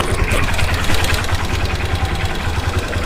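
Hero Xtreme motorcycle engine idling close up with a steady low throb and a fast, even ticking from a worn timing chain, continuous and alone.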